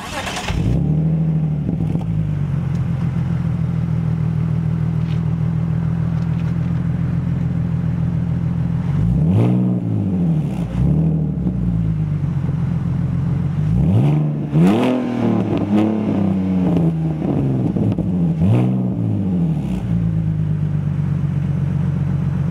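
A BMW Z4 sports car engine idling steadily, then revved several times in quick blips that rise and fall, loud and close with no talking.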